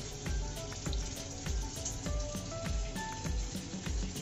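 Water is poured into a hot cooking pan holding makhana (fox nuts), making a steady, continuous splashing hiss with a sizzling edge for a few seconds, close and fairly loud.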